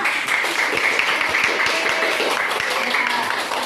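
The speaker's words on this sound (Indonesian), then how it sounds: "Iya, tepuk tangan untuk Tribras." Classroom students clap for a classmate, a dense patter of many hands with sharp individual claps standing out, steady and fairly close throughout, with faint voices mixed in.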